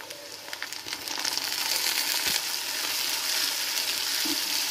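Onion and tomato sautéing in a pan for a fish and okra curry, a steady close sizzle with occasional stirring scrapes, growing slightly louder after the first second and holding even to the end.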